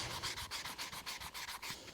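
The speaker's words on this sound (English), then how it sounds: "Just been sanding this with a bit of 180" Fast, steady strokes of 180-grit sandpaper rub across a wooden wheel from a 1925 Dodge Brothers touring car, giving a close, rhythmic scratchy hiss with no talking.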